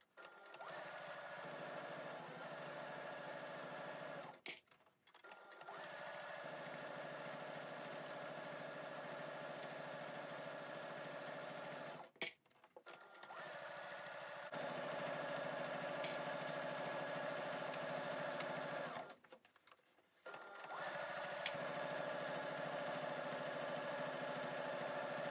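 Sewing machine stitching around a fabric drawstring bag, a loud steady motor whir running in long bursts with three short pauses between runs, no talk.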